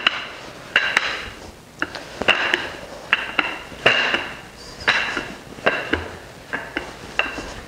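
A small rolling pin works sweet bread dough on a counter in a series of regular soft knocks and rolling thumps, each followed by a brief rumble, repeating at close range.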